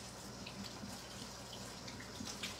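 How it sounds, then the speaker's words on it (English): Tap water runs steadily into a kitchen sink as pancake batter is rinsed off a blender lid, a continuous close hiss with a few splashy changes and no talking. "We're gonna wash the batter off our cover first so it doesn't stick to our dry oats."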